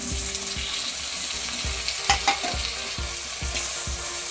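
Onions and tomatoes sautéing in a pan for fish curry, giving a continuous close sizzle broken by regular scraping stirs.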